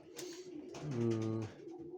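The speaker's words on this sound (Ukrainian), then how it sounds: "Тут я годую голубів" Pigeons coo nearby in a pigeon loft, a soft low throaty call swelling in the middle, with faint rustling around it.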